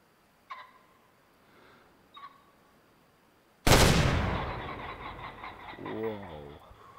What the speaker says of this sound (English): That was a pretty intense shotgun round. I'm not going to lie. I think I fired both barrels off at the same time.